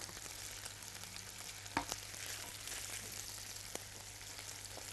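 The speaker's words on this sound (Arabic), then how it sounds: "يتشوح بقى مع السجق وياخد من النكهة بتاعته" Onion sautés with Alexandrian sausage in a pan, making a faint, steady sizzle with a couple of sharp clinks partway through.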